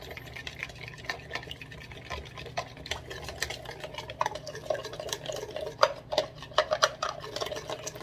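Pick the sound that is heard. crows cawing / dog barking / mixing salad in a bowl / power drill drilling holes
mixing salad in a bowl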